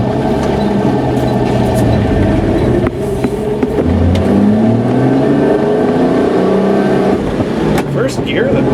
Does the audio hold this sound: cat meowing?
no